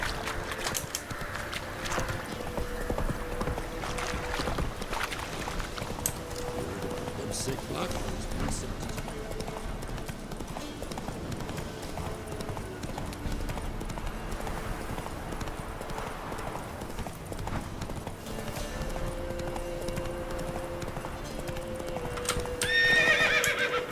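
Roach, the horse in the video game The Witcher 3, gallops with steady clip-clop hoofbeats and gives a neigh near the end, all under continuous game music and ambience.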